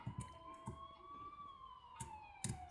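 A wailing ambulance siren from The Coma: Recut video game holds one long, slowly falling tone. It plays at a moderate distance under scattered clicks and soft thumps, with no talk.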